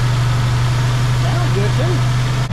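A 1976 Chevy LUV truck engine idles steadily and loudly up close, a constant low hum throughout with faint voices in the background.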